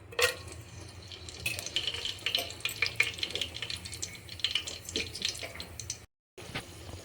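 Peppercorns, cloves and cinnamon sticks fry in hot oil while a utensil stirs, making a faint, crackly sizzle with scattered light clinks and scrapes, then a brief cut to silence.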